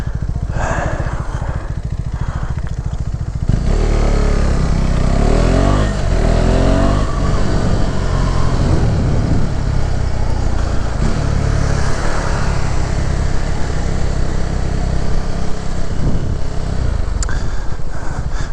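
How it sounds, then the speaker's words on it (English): A KTM motorcycle rides through Milwaukee streets, its engine a steady, close, loud drone with rising revs and wind rush throughout. "best way to explore is on a motorcycle"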